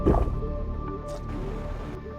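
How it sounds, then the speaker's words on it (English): Wet squishing and dripping liquid sounds play steadily over a low droning background, like water being gulped in the video game The Planet Crafter. "we can drink the water here"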